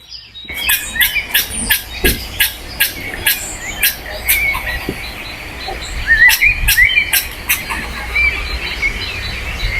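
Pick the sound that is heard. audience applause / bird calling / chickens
bird calling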